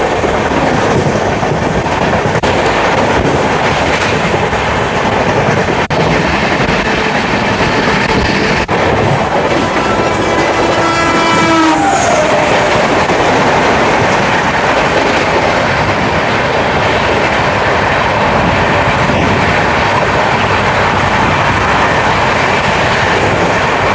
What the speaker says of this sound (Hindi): भाई साहब क्या शानदार एक्सेलरेशन के साथ चल रही है ट्रेन